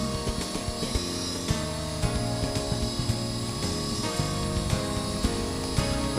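A Blade SR radio-controlled model helicopter flies in a front yard, its rotor and motor giving a close, steady, buzzing whine with layered tones that holds without a break for about six seconds.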